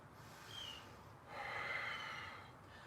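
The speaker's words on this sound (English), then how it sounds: "Breathe." Slow breaths during a yoga session, two soft, audible airy inhale-exhale swells, quiet and close with no talking.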